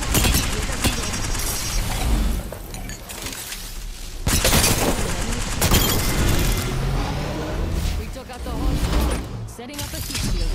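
Bursts of weapon fire and shattering impacts in an Apex Legends firefight, loud and close, with a voice speaking over the noisy battle.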